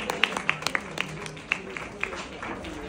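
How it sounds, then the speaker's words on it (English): Applause rises for a student winner at an Indian Public School trophy presentation in Sultanabad, with distinct individual claps standing out sharply over a softer, moderate background of clapping. "A big round of applause,"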